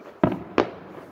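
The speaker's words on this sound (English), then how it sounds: "They're fireworks, and yeah, it's just like a bunch of light" Fireworks exploding at night: two sharp booms about a third of a second apart, each with a brief rumbling tail, heard from a moderate distance with no talking over them.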